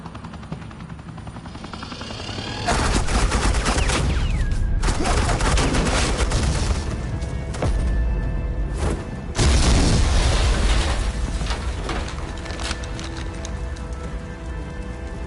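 Suppressing gunfire in the video game Batman: The Enemy Within: loud, dense bursts of shots and booms arrive in waves over a steady roar, with short dips between volleys.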